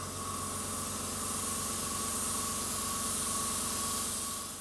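An airbrush sprays red paint over a bubble and water-drop design, a continuous close, loud hiss of air and paint that holds steady for several seconds and then cuts off at the end.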